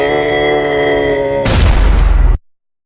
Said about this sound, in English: A deafening explosion jolted the air.